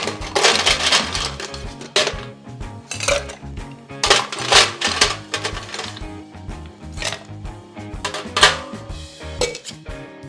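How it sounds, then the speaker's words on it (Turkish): Crushed ice clattering and rattling inside a cocktail shaker for a Sex On The Beach cocktail, a dense run of loud rhythmic shaking bursts over steady background music. "Şey kırımı bol buzla dolduruyorum ve güzelce shake ediyorum"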